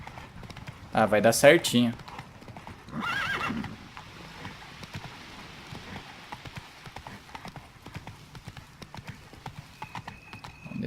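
Geralt's horse gallops in The Witcher 3, with rapid, rhythmic clip-clop hoofbeats continuing through the clip. A horse whinnies early on, and a voice speaks briefly over the steady hooves.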